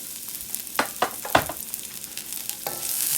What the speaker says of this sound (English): And then we will saute our garlic